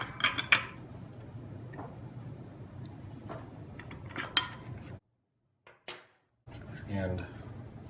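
A ball ring spanner clicks and scrapes against the internals of a Sturmey-Archer C30 bicycle hub, giving a handful of sharp metallic ticks and taps over a low background hum, broken by a short silence.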